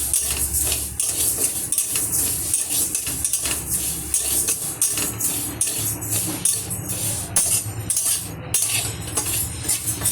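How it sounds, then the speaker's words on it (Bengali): Moong dal dry-frying with cinnamon in a wok, heard as repeated scraping and clinking of a spatula against the pan with a soft background hiss, steady throughout with no talking. "তাই আমি দারুচিনি দিয়ে মুগের ডালটাকে ভাজছি"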